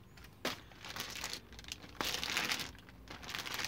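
A plastic bag crinkles and rustles while a Lenovo Yoga 510 15.6-inch laptop is unboxed, with close, continuous crackling and a couple of sharper crunches, no talking.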